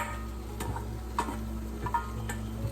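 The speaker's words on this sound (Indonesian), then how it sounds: "So I put everything back because actually it's fit ya to put everything in a one pan." Stir-fry filling for mie goreng with chayote is tipped back into a frying pan, sizzling steadily under a few light clinks and scrapes of the utensil against the pan.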